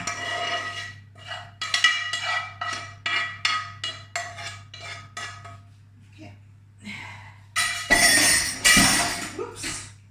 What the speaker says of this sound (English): Nearly smashed my cups.